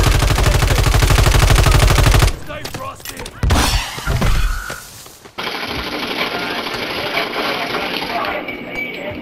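Rapid machine gun fire in a Call of Duty battle, a dense stream of repeated shots over the first two seconds, then a chaotic burst of impacts and a steady noisy wash of combat ambience.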